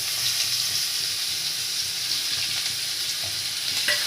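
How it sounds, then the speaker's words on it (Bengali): Onion frying in hot oil left over from frying parwal, a steady close hiss of sizzling with faint clinks of stirring throughout, no voices. "পটল ভাজা তেলের মধ্যেই পেঁয়াজটা দিয়ে দেবো"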